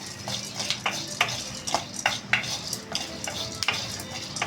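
Peanuts and white sesame seeds dry roasting in a pan without oil, with regular scraping stirs of a spoon against the pan and a faint dry crackle, close and fairly quiet.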